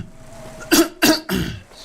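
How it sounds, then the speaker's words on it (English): Three harsh coughs come close together at the microphone, loud and close, over a quiet background. "Excuse me for coughing."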